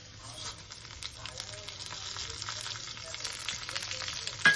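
Urad dal and mustard seeds frying in oil in a home kitchen, a quiet, even sizzle with scattered small pops and crackles and a brief louder clatter at the very end.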